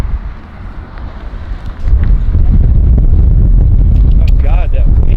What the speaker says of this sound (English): Oh God, that wind.